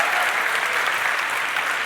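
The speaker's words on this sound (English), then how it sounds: "A round of applause to our CFO, Harpal Singh over there." A keynote audience at the Decipher conference applauds for a company CFO, a dense, even roar of many hands clapping that holds steady for about two seconds without pause.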